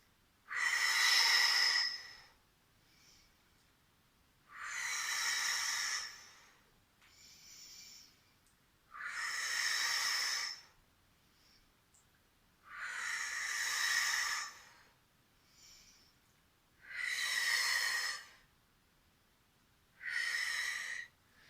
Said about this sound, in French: Inspire, souffle, inspire, souffle, inspire.